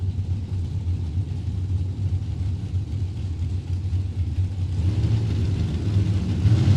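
Drag racing cars idling at the line, a steady low engine rumble that builds slightly louder toward the end, with no talk over it.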